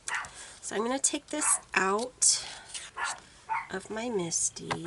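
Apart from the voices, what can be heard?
Chihuahua dog barking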